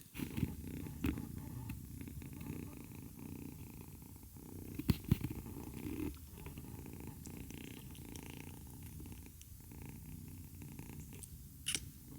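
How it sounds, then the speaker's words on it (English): A rescued feral kitten purrs loudly and steadily up close, a low rumbling drone with a few soft knocks and shuffles, no talking. "Right now she's purring."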